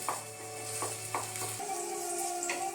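A spoon or spatula scrapes and stirs potato halwa cooking in ghee in a pan, with a soft steady sizzle and a few light clinks, close and quiet, no talking.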